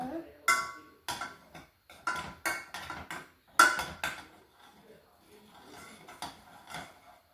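Sugar is stirred into carrot kheer in a pot, a spoon knocking and scraping against the metal in irregular clinks and taps, close and fairly quiet, with a few sharper strikes and softer rattles toward the end.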